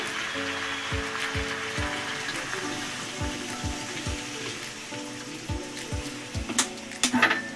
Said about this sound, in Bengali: কষানো হয়ে গেছে এখন দিয়ে দিচ্ছি জল